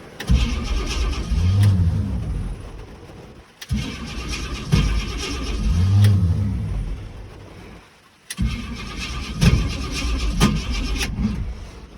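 A car's starter cranks the engine in three separate bursts, each a loud rhythmic churning whir lasting a few seconds, broken by brief silences, with no catch or start.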